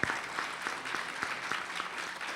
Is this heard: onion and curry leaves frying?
no